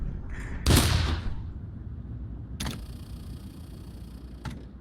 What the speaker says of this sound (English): Let's toss a grenade, screw that grenade.